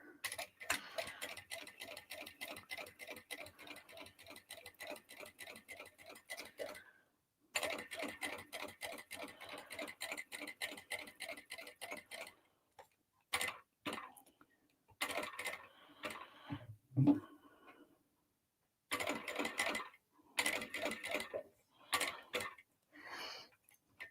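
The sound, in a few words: sewing machine stitching round a dolly bag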